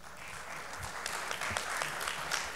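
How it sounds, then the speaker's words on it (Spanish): An audience claps for a speaker being introduced at a professional innovation event, a dense, even wash of many hands, moderately distant and steady throughout, with no voices over it. "Lo recibimos con un aplauso"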